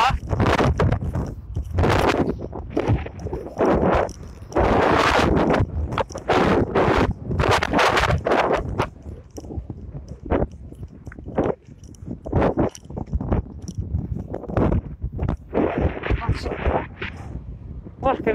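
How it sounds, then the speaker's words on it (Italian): Gusts of strong wind batter the microphone in loud, irregular bursts under a low cloud as a possible tornado approaches an industrial zone in Brindisi, Italy, with a voice speaking intermittently beneath. "il vento sta aumentando"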